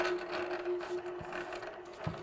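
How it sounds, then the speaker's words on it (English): Longarm quilting machine stitching along a previous stitch line on a quilt border, a steady close mechanical hum running throughout with faint rhythmic needle clatter and no voice. "And I'm going to stitch very carefully down on top of that previous stitch line."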